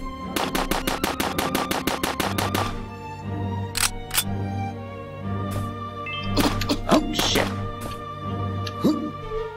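Rapid bursts of video game gunfire open the scene, a fast string of sharp repeated shots, followed by scattered single reports and metallic clacks of reloading amid game background sounds.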